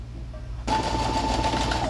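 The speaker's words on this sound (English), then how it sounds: "I'm going to start off by basting the bottom of this." A sewing machine bastes fabric with a long straight stitch, starting abruptly after a short quiet moment and then running as a steady, close, rapid mechanical whir.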